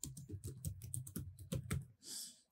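Someone types on a computer keyboard, giving a quick run of crisp, close key clicks with uneven rhythm, ending in a soft swish, recorded quietly without any talking.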